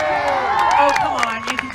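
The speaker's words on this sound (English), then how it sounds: "The more you clap and the louder you cheer, the better the dogs are going to play out here." An audience at the State Fair of West Virginia claps and cheers for a disc dog show, crowd noise with whoops and sharp claps, mixed with a voice speaking over it.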